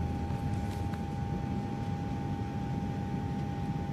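Steady, unbroken roar of an airliner cabin cruising at 40,000 feet, a dense low rumble with a faint constant tone riding on top, no voices, unchanging throughout.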